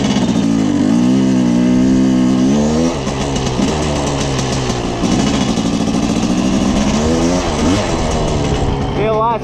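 Yamaha YZ250 two-stroke dirt bike being ridden up a ditch line, its engine loud and close throughout with rising and falling revs, rider's voice occasionally heard over it.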